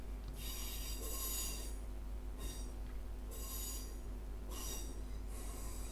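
Train pulling into platform 14 at Manchester Piccadilly, with repeated high metallic wheel squeals rising over a steady low rumble of rolling carriages, close and continuous.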